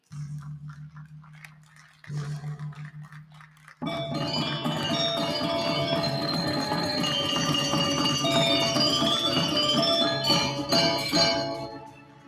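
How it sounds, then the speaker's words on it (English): At a conference opening ceremony a gong rings out, its first two strokes leaving long, ringing tones, and then bright, busy ceremonial music swells in and carries on loudly. "please strike the gong 3 times on the count of 3"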